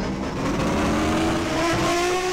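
A Ford TC 2020 touring race car takes the final hairpin in second gear, its engine loud and close with a rising note as revs climb through the corner, no voices over it.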